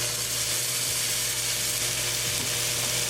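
Potatoes sizzle steadily in a pan after the lid comes off while cooking spinach aloo palak sabzi, a loud continuous frying hiss with a faint low hum beneath and no talking.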